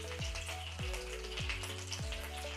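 Marinated chicken leg quarters fry in hot oil, turning golden brown, with a constant crackling sizzle broken by a few soft pops and stirring clunks, close and alone.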